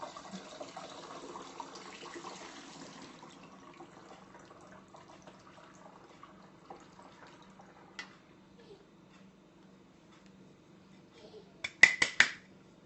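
Liquid pours into a glass jar while a fruit shrub of fruit, sugar and vinegar is made, a faint steady trickle for a few seconds, followed near the end by a brief cluster of sharp clinks.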